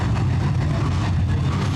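A Wissota late model race car engine under power on a racetrack front stretch, a dense steady low roar held throughout, loud and continuous.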